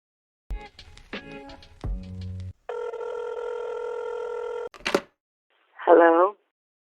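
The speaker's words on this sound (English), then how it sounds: "let's pick up the lovely phone and dial it." A telephone is dialed with a quick run of clicks and tones, then a steady ringing tone sounds for about two seconds, followed by brief electronic chirps.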